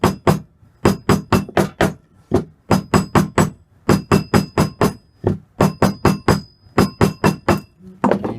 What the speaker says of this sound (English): So you just spin the mandrel, tap the ring,